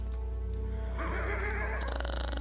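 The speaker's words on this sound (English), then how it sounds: "That thing just like sounded like a horse." A horse-like creature in the Starbound video game gives a whinnying neigh, a bright wavering cry that rises in the middle and fades out over a steady low background hum.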